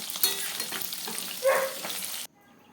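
Pieces of bhetki fish sizzling in hot oil, a continuous crackling fry with a louder surge midway before it cuts to near silence.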